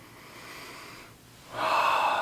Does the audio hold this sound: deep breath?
yes